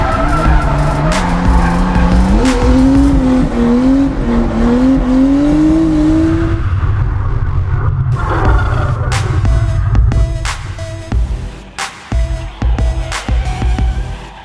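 A drift car's tires screech loudly in long wavering squeals over engine roar, then the squeal stops and the motor keeps rumbling with sharp knocks and clatter; an engine knock fault is mentioned.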